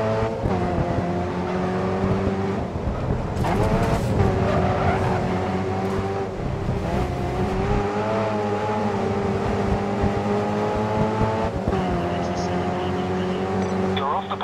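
Race car engine in GRID Autosport droning loudly and steadily with shifting pitch as revs rise and fall, broken by tire skids and squeals, with a voice talking over the gameplay.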